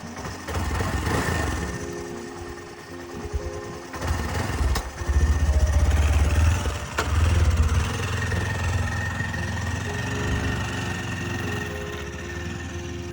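A motorcycle rides downhill from a mountain campsite in Mondulkiri, Cambodia, its engine droning steadily and close with a rougher surge in the middle, no voices over it.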